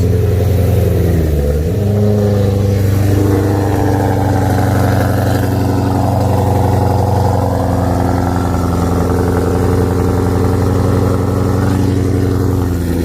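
A supercharged BMW E92 M3 with an ESS G1 kit revs hard and loud up close, its engine note swelling and holding a deep, throaty drone with a brief dip early on, no one talking.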